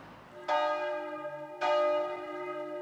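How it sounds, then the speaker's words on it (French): Protestant church bells ringing on a Sunday, two strong resonant strikes about a second apart, each leaving a long ringing decay, clear and unaccompanied. "chaque dimanche, les cloches de l'église protestante vont sonner 2 fois"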